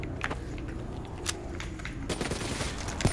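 Video game gunfire crackles in quick bursts through a dense, steady game soundscape, with sharp transients near the start and end of the short stretch.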